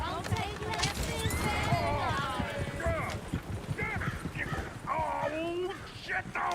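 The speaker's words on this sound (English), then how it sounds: "Oh, shit, the horses!" Horses clip-clop in quick, uneven hoofbeats in Red Dead Redemption 2, mixed with whinnies and close, busy in-game voices talking over them.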